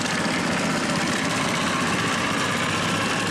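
A boat motor runs on a floating river market, a steady, loud, continuous engine drone with even texture and no voices over it.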